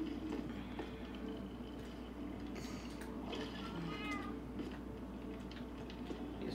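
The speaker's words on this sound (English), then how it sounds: "They're outdoor kitties. Why are they all on the beds?" Several cats meowing in Minecraft, short pitched mews scattered over a steady game background, moderately loud and close with no speech.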